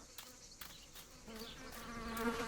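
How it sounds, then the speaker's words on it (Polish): Bee swarm buzzing in the video game Martha Is Dead, a faint droning hum that swells louder toward the end, with a few soft taps early on. "Uj, pszczółki! Wlazłem w rój."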